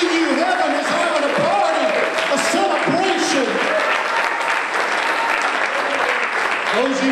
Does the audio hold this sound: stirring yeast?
no